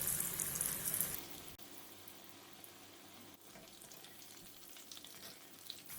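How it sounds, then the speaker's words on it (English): Onion rings frying in hot oil, a loud bright crackle at first that settles into a steadier, quieter bubbling sizzle for the rest, with no voices. "Fry the onion rings in hot oil"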